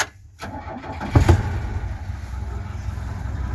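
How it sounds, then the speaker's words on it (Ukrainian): A cold car engine cranking and catching on gas fuel in a garage where rear-wheel-drive axles are being fitted, then settling into a steady, fairly loud idle. "Давайте запустимо холодний чертольот на газу."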